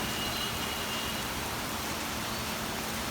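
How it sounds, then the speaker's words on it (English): Heavy rain pours down in a steady, dense hiss that fills the whole scene without letup, with no voices or other distinct sounds. "Listen to the sound of rain."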